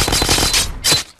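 A cannon in the game Happy Wheels goes off in a loud burst of rapid rattling blasts, then a second sharp crack before it cuts to near silence.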